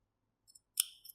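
Scissors cutting felt for a Santa Claus panettone holder, heard as a couple of faint, close snips followed by one crisp, louder cut and a short trailing snip in an otherwise quiet room.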